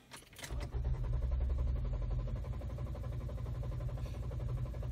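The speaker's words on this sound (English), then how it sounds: "Begin cranking." A car engine cranks during a scan tool test with the driver's foot held to the floor, a short clunk followed by a steady, even whirring drone that holds at moderate level without catching.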